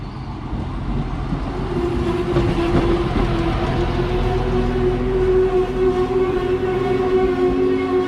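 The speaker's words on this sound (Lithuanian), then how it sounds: "lipk čia, nes atvažiuoja traukinys" At a station in Lithuania, a train arrives with a loud, steady rumble and a sustained tonal hum from the rails and engine, continuing unbroken with no voices.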